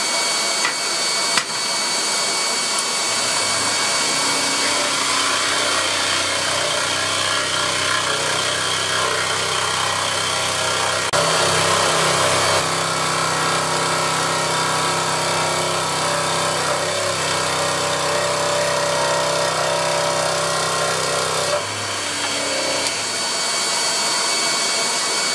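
A scroll saw hums and buzzes steadily while cutting through 75 mm thick wood, with a brief pause near the middle and again near the end.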